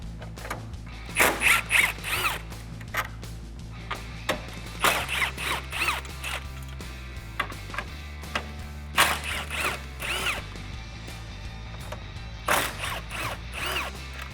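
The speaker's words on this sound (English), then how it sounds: "remove the 4 10mm bolts holding on your grill" A hand tool loosens the four 10mm bolts holding the grille of a 2019-2020 RAM 1500 pickup, giving short bursts of quick ratcheting clicks with pauses between, fairly faint over a low steady hum.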